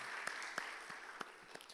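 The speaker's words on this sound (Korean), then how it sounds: "이 시간 박수로 한번 격려할까요?" Congregation clapping at a church youth worship service, a quiet, steady wash of many hands with a few sharper claps standing out, heard from a distance with no talk over it.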